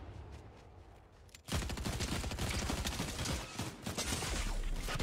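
SMG gunfire in the video game Fortnite starts after a quieter moment and becomes a sustained, loud barrage of rapid shots that continues to the end.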